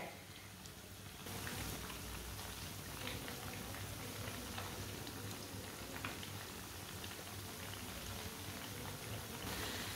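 Pakoras fry in hot oil: a dense, steady crackling bubble begins after a quieter first second and then continues evenly and closely until the end.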